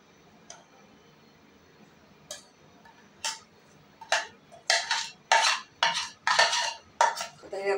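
A spoon scrapes and clinks in a bowl as melted jaggery is poured and stirred into an energy ladoo mixture, sparse at first, then a quick run of loud, close, rhythmic strokes with no talk.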